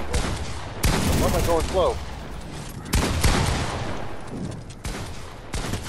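Bursts of video game gunfire, with sharp broadband shots striking in several separate volleys during a wolf fight, loud and close, mixed with someone talking over the action.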